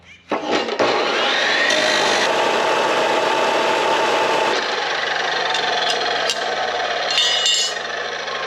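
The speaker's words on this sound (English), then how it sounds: "I'm gonna go ahead and cut a 1/2 inch thick piece of steel off of this" A power tool cuts through half-inch-thick steel plate with loud, continuous grinding and a high metallic whine, starting after a brief bump and barely pausing.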